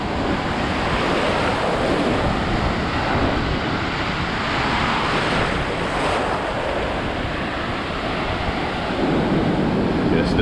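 Atlantic Ocean surf breaking on Daytona Beach, Florida: a continuous loud roar of crashing waves with steady wind buffeting the microphone, no voices.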